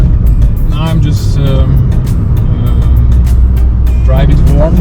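A Suzuki Swift Sport small car is driven while the engine warms up, its low, steady drone continuous throughout, with a voice talking over it at moments.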